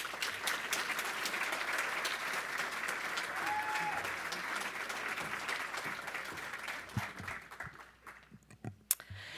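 A convocation audience applauds steadily as a person is welcomed to the stage, a sustained wash of clapping that thins out and scatters into a few last claps near the end.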